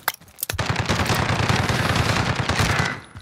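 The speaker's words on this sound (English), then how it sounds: "He's shooting at me." Rapid, loud automatic gunfire from a Call of Duty Modern Warfare Warzone match, sustained bursts of closely spaced shots after a couple of sharp opening cracks, dense and close throughout.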